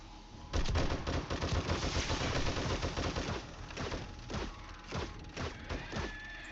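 Sustained rapid gunfire in 7 Days to Die rattles on for several seconds, a dense stream of close shots that thins into scattered separate bangs toward the end.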